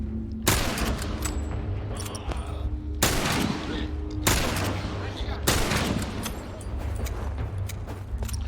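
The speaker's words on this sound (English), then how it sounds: "we're going to use our rifle" Rifle shots in The Last of Us, four loud, sharp single reports spaced a second or more apart, each with a ringing tail, over low background game sound and some talk.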